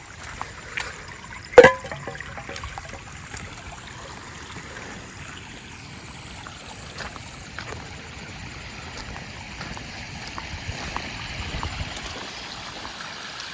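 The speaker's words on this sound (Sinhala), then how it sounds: "වතුර පාර තියෙන්නේ." A forest stream at a camping spot in Wawlagala, Yatiyantota, flows with a steady soft trickle and gurgle, one sharp knock early on, and no voices.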